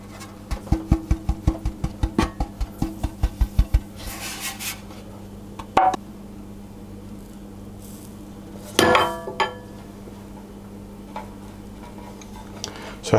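Light rhythmic ticking and scraping as greased loaf tins are coated with sugar, a quick run of taps followed by sparse rubs and clinks, close and quiet.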